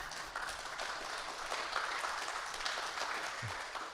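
Steady applause fills a conference hall during a live event at a gallery, a dense wash of clapping from a sizeable audience that holds at an even level throughout.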